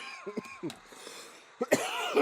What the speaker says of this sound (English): Just trying to hold that cough back